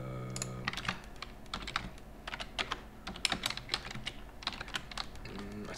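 Computer keyboard typing during a data-exploration session, a steady stream of crisp, close key clicks with uneven rhythm and brief pauses, no talking over it.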